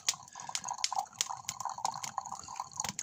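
Filtered drinking water dripping into a water bottle, a steady run of quick, light drips that are close and fairly quiet, with no talk.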